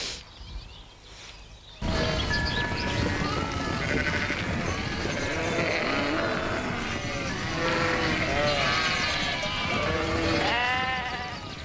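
A large flock of sheep, nearly a thousand head kept by shepherds in the Bakony, bleat continuously in overlapping calls, many voices near and far, after a brief quieter opening.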